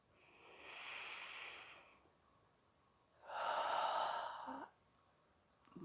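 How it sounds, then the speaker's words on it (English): Two slow, deep breaths taken during a yoga hip workout, each a long airy inhale or exhale lasting over a second, close and fairly quiet, separated by a short pause with no talk. "I'll take one more round of breath."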